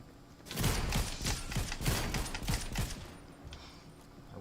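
Assault rifle gunfire in Fortnite during a close-range fight: a rapid burst of sharp, evenly spaced shots lasting about two and a half seconds, fairly close and moderately quiet, then fading.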